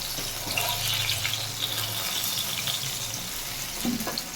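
Broad beans and potatoes sizzle steadily in hot oil, a continuous close crackle with faint clinks and stirring, no voices.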